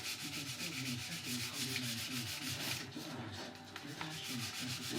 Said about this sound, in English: Sand this down a bit here.